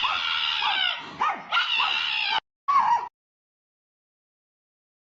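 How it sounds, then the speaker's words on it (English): A dog making strange, strained barking and yipping sounds, loud and close, in several bursts that cut off abruptly, leaving silence. "That's hilarious because the dog sounds freaky."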